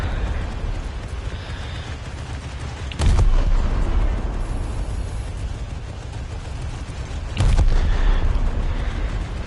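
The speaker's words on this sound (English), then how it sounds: "Continues the rapid fire." War Thunder battle: two heavy booming blasts a few seconds apart stand out over a dense, rumbling wash of distant fire and explosions.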